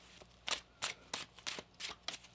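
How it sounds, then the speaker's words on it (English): Tarot cards being shuffled by hand, seven quick crisp riffle bursts in an even rhythm, close and clear with no voices. "One more shuffle now."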